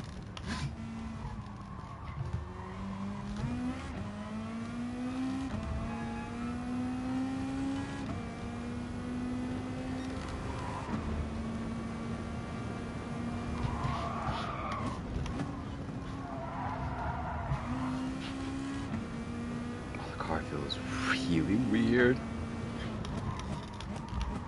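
A Mazda Atenza race car in a racing video game, its engine rising and falling through gear shifts, with occasional tire squeal. Someone talks over it almost continuously.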